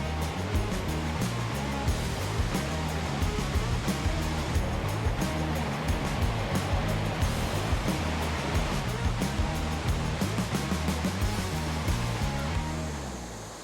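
Tad Tayicseua waterfall on the Pakse Loop in southern Laos roars as a steady, loud, full rush of falling water, constant throughout with no voices over it.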